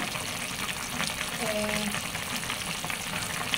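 Pumpkin and Malabar spinach cooking in a pan, a soft, fairly faint sizzle with gentle stirring and a brief tonal scrape partway through.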